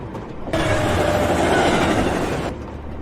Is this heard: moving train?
yes